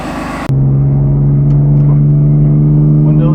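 A BMW F80 M3 with its stock airbox fitted idles loud and close, a steady, even engine drone that begins abruptly after a brief cut.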